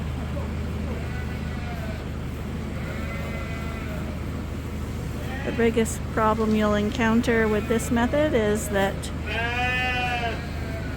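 Someone talks while several sheep, including Suffolks, bleat repeatedly nearby in an indoor feeding area, the bleats growing louder and more frequent toward the end over a low engine hum.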